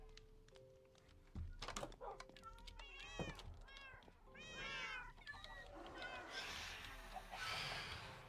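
Cats in the Minecraft video game meow repeatedly, several short rising and falling game mews overlapping in quick succession, with soft clicks and background game noise.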